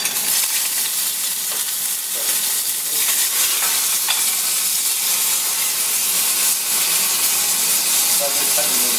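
Cumin frying in hot oil in a restaurant kitchen for seafood rice, a loud continuous bright sizzle and hiss with faint stirring scrapes, close up.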